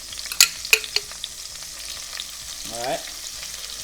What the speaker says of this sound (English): First thing we're gonna do is to fry a little bit of andouille.